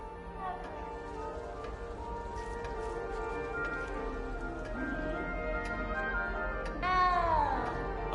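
One frightened cat in the Hogwarts Legacy video game lets out a single clear, falling meow near seven seconds, after a stretch of busy background sound with light ticking noises.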